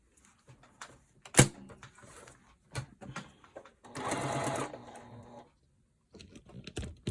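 A sewing machine joins two kitchen towels in a short close burst of stitching, surrounded by sporadic clicks and handling knocks.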